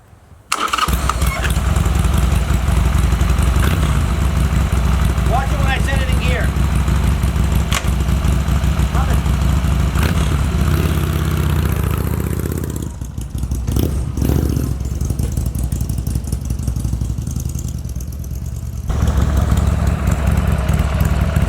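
A restored motorcycle, a barn find that sat for twenty years, runs steadily nearby, its engine idling with a loud continuous drone that dips briefly when it is put in gear, with faint talk at times.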